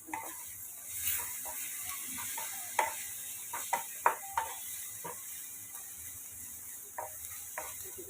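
Half a tomato drops into a hot, sizzling pan of moong usal, a steady sizzle with several sharp clacks and scraping stirs scattered across it, close and moderately loud with no talk.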